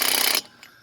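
Ratchet wrench tightening lug nuts on a 2018 Chevrolet Equinox wheel: a loud, dense burst of rapid clicking for under half a second, then a faint trailing click, close up with no talk.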